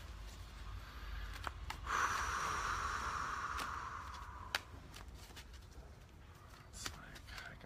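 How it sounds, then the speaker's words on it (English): Tarot cards riffle in a brief shuffle at close range, a soft crisp flutter lasting about two seconds amid quiet room sounds and light breathing. "I'll let you pick the card once I do a little shuffle here."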